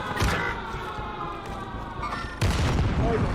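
Frag grenade blast in Call of Duty, a broad booming burst landing about two and a half seconds in, over continuous gunfire and battle noise with a siren-like tone in the mix.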